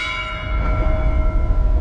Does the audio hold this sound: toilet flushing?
no